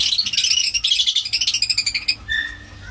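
Lovebirds in an aviary chirp rapidly and close by, a dense run of high twittering notes that ends in a longer whistled call.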